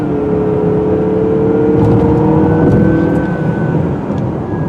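A 2018 Mazda CX-9 with a turbocharged engine accelerating, a loud steady engine drone heard from inside the cabin with rising tonal whine as revs climb, alongside road noise and no speech.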